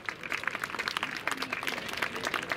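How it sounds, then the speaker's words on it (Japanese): A crowd at a flag show during a seaside summer festival in Nanki claps in steady, moderately faint applause with a dense patter of hands throughout. "盛大な拍手をいただければ嬉しく思います"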